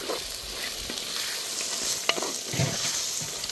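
Onions sizzle steadily in hot oil until glassy while a spoon scrapes and stirs through the pan now and then, close by, for a Sri Lankan dried-fish thokku.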